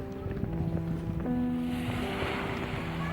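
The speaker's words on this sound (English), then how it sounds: "Ah, the sound of the waves is beautiful." Waves breaking on the beach at Penarth Pier on a cloudy day, a continuous outdoor surf wash with wind buffeting the microphone and a faint tonal hum underneath, no talking.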